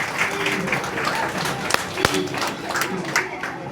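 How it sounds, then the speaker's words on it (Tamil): An audience at a meditation camp claps for the children, a moderate patter of hands with a few sharper individual claps standing out, and some voices mingling with it. "அந்த பிள்ளைங்களுக்கு ஒரு வாழ்த்து தெரியுங்க கைத்தட்ட முடியுமா"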